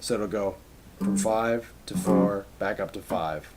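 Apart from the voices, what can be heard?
None of the usual background noises is heard.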